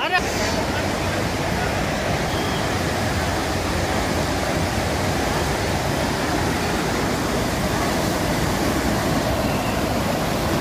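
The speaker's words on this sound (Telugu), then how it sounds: "వేడి నీళ్ళు కిందకి వెళ్తున్నాయి" Steaming hot spring water rushes downhill beside a road at Yamunotri on the Chardham pilgrimage, making a loud, steady, broadband roar close by, with voices faintly talking underneath.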